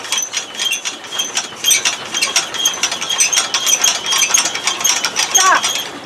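A Hydramatic mechanism running at 120 RPM gives off a steady, rapid ratcheting clatter of clicking gears and pawls. It is close and loud and continues for the whole stretch, with no talk.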